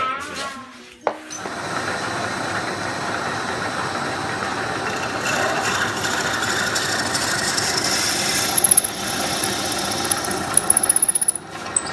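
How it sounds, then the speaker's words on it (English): A drill boring out a hole, starting after a brief knock and then running as a steady, loud whirring grind for several seconds, with a few sharp clicks near the end. "So now I can drill out the hole"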